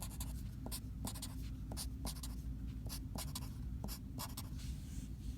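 A hand drawing a diagram on paper makes quiet, close scratching pen strokes in short repeated bursts over a steady low background hum.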